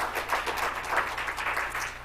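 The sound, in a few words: audience applause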